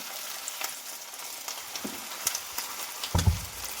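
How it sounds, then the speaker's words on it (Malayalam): Marinated chicken pieces for homemade KFC-style broasted chicken go into oil at a rolling boil, giving a faint, steady crackle that swells into a louder sizzling burst near the end. "എണ്ണ തിളച്ചിട്ടുണ്ട് എന്നാൽ നമ്മളാണെങ്കിൽ പരട്ടി വെച്ചേക്കുന്ന ചിക്കൻ എല്ലാം അതിലേക്ക് ഇടാൻ പോവുകയാണ്"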